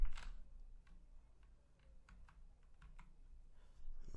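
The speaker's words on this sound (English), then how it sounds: "My keyboards are loud, very noisy." Loud, noisy computer keyboard being typed on, a quiet irregular run of close key clicks and taps with no talk.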